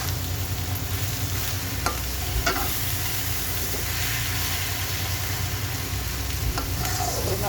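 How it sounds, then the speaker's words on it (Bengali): Lachha semai zarda being stirred in a hot pan gives a steady, even sizzle, with a few soft scrapes of the spoon against the pan over a constant frying hiss. "নাড়াচাড়া করে নামিয়ে ফেলবো।"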